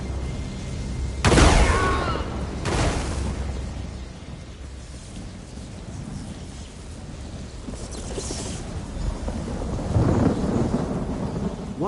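Two sharp, loud thunder cracks from a lightning spell in Elder Scrolls Online, each followed by a long rumbling decay, then a quieter rolling boom near the end.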